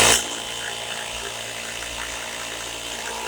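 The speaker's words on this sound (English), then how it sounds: "Now I use my little El Cheapo pump hooked up to a 12-volt battery." A cheap little electric air pump running off a 12-volt battery hums steadily and close by with a constant motor drone, inflating the inner tube of a Yard Bug MTD 9 hp mower tire, alone with no talk.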